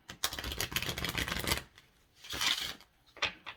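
Oracle angel cards are shuffled by hand in a quick riffling burst of papery flicks, then a pause and two shorter rustling bursts, close and alone.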